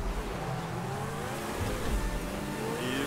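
A car accelerating in the racing game GTA V, its engine note climbing steadily in pitch as it revs up, loud and continuous with road and game noise beneath.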